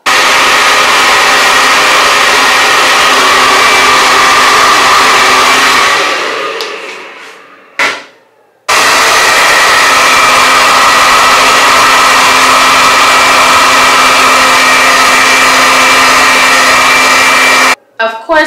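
A loud, close hair dryer with a diffuser attachment blowing steadily while drying hair, cutting out briefly twice before running again at full strength.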